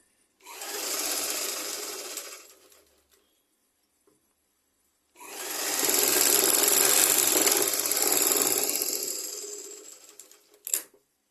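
A sewing machine stitches a long top in two runs, a short burst of rapid whirring followed after a pause by a longer, steady stretch that ends with a sharp click.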